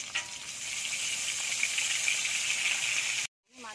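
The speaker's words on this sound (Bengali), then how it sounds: "মাছের মাথাটা ভেজে নেব। তার জন্য দিয়ে দেবো সরষের তেল" A fish head rubbed with salt and turmeric sizzles loudly and steadily in hot mustard oil, a close, continuous hiss that cuts off abruptly near the end.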